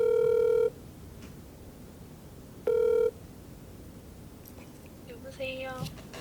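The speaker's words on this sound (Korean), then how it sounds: "한번 전화 연결해 볼게요" A telephone ringback tone sounds twice while a call is being placed during a Korean advice show: two loud, steady tone bursts a couple of seconds apart, followed by quiet line hiss and a faint rustle near the end.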